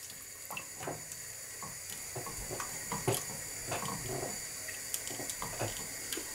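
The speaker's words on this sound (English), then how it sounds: "And then my first can of water." Water from a can pours into a cooking pot of turkey meatballs in a home kitchen, a steady splashing trickle with brief bubbling bursts, heard close and moderately loud without talk.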